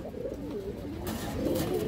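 Several high flyer and roller pigeons on a farm coo in low, soft, repeated bursts that continue steadily throughout, fairly close and moderately loud.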